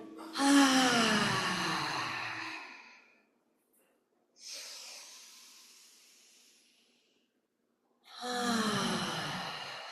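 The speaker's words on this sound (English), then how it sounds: "Deep inhale through the nose" Deep nasal inhales during a qi gong routine, three long breathy rushes of air, each swelling loud then tapering off, separated by short silences, close to the listener with no talking.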